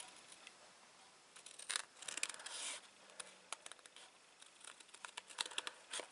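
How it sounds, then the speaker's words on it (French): Scissors snip away excess card paper in a run of quick close cuts, with light crinkling of the card between snips, faint and without any talk. "Donc je coupe hein, tout simplement ce qui dépasse"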